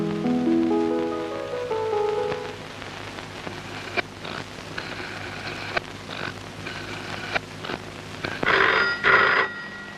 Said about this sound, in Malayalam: രജനി, ചേട്ടനായിരിക്കും ഫോൺ എടുത്തു.